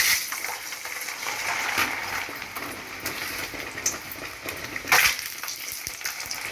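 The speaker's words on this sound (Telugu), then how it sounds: "ముందైతే తెల్లగడ్డలు వేసేద్దాం." Garlic cloves sizzle in hot oil with the stove switched off while tempering a pickle, a steady bright crackling hiss throughout with a louder spitting burst near the end.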